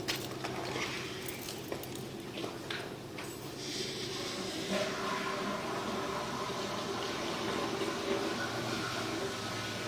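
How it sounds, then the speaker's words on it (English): Toilet flush water rushing through a city sewer pipe partly blocked by roots, a steady loud wash of flowing water that swells and continues for the full length with no talk. "We're going to just flush the toilet real quick."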